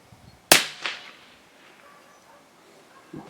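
Huben K1 air rifle fired through a chronograph: one sharp, loud crack followed by a quick echo-like second burst, then quiet room tone and a faint thump near the end.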